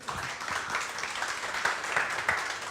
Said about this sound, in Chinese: 那我们这时候拍手来欢迎好敏媛